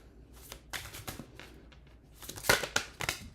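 A new deck of tarot cards is shuffled close up in a quiet room, with papery riffles and soft slaps coming in quick bursts that get louder and busier toward the end.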